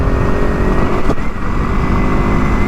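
The engine of a KTM 690 Enduro R motorcycle roars at high revs in a loud, steady drone while the bike rides a gravel stretch just before the pavement. It is close and continuous, with a brief dip partway through.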